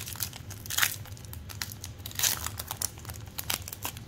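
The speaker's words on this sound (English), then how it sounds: "opening packs" Crinkly foil wrappers of 2023 Bowman baseball trading card packs being torn open, with scattered sharp rips and crackles over a low steady hum, close to the microphone.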